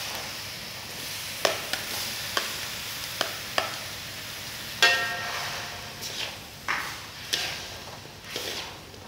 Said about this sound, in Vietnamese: Mình xào cái phần khóm này cho nó săn cái phần khóm này rồi.